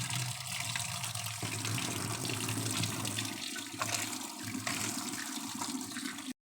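Water runs steadily from a tap in a bathroom, filled with Dettol for cleaning, a continuous close hiss with small shifts and a few knocks before it stops abruptly at the end.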